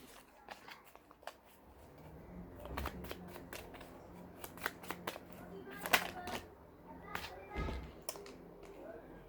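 Tarot cards are shuffled and drawn in quiet, close bursts of riffling and soft slaps, with faint voices talking now and then.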